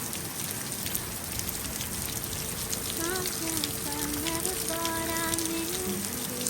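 Heavy rain pours down steadily outside on a fall day, a dense, continuous hiss close by, with faint tonal birdlike or background sounds drifting through in the second half.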